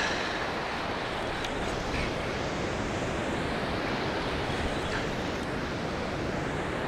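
Ocean surf breaking steadily on a beach during surf-casting for snapper, a continuous broadband wash of waves with wind noise, fairly loud and without talk.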